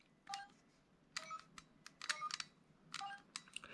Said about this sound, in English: By pressing 1, 4, 7 and the hashtag, you get these number keypad noises.